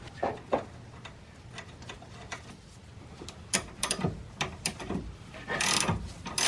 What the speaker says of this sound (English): I'm gonna tighten it until I can see the other side of the hole where the cotter pin goes